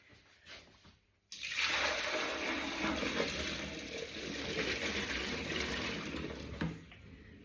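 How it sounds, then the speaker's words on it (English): Washing-up water pours into a slow cooker dish in a kitchen, a sudden loud splashing gush starting after a quiet moment and running steadily for several seconds before easing off. "now if I put this washing up water in there"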